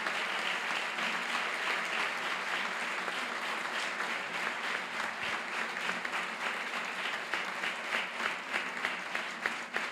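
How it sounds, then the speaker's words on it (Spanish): Panel audience at a movement gathering applauding for Adolfo Esquivel, a continuous, moderately distant roar of many hands clapping, steady with slight swells throughout. "uma salva de palmas para Adolfo Esquivel."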